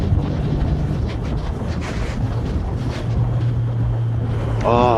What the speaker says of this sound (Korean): 백토크 소리 좋죠?